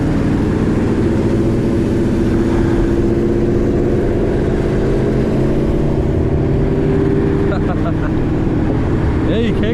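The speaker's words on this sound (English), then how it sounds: "that blower is so loud." Built Camaro Z/28 with a loud supercharger blower, a heavy steady engine drone with strong low rumble and a whine on top, holding fairly constant throughout, with a slight change near the end.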